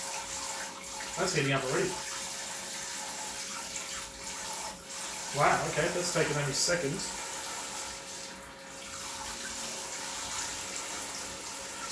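Water streams steadily from an Aqua Cube Logic rechargeable portable camping shower at good pressure, a continuous hiss running the whole time while a person talks intermittently over it.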